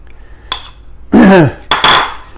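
Whisked eggs poured and stirred into a bowl of coconut sugar, corn syrup and chopped pecans for a praline pumpkin pie filling: a few close, loud clinks and scrapes of utensil against bowl in short bursts, with no talking.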